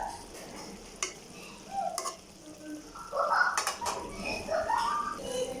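Egg, potato and dal chorchori is stirred in a pan with quiet, intermittent scraping over a faint sizzle, and birds coo softly in the background.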